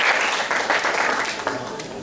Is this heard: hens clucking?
no